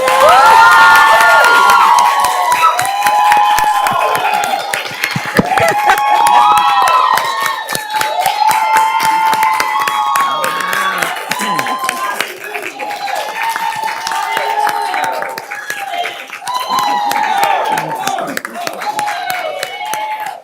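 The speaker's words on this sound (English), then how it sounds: "this is where you guys all applaud" City council meeting audience in Inglewood bursts into sustained applause mixed with cheering, whoops and shouting voices, loud and lively throughout.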